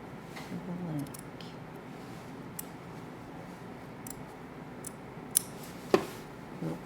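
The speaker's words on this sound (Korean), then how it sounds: "이쪽 끝이랑 이쪽 끝이랑 정확하게 맞추셨으면 여기를 Y자로 잘라" Scissors snip through fabric, cutting a Y shape for a collar in sewing, with a few sharp, separate clicks and crisp snips, close and quiet against a soft background hum.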